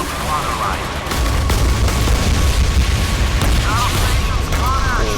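Naval gunfire in the mobile game Modern Warships: a dense run of booming cannon and explosion blasts rolling on almost continuously, loud and close, with someone talking over the battle.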